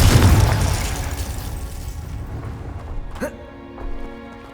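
A Confringo explosion spell in the video game Hogwarts Legacy bursts with a loud, low boom at the start, then rumbles away beneath fainter combat effects, with a sharp ringing zap near the end.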